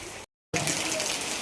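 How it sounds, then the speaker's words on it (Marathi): A stream rushes nearby in a steady broadband wash of flowing water, briefly cutting out before resuming at the same level. "इकडे साईडला आवाज येतो आपला पऱ्याच्या पाण्याचा"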